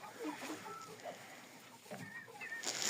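Jersey Giant and Livensky chickens cluck softly in an early-morning coop, faint scattered calls without talk.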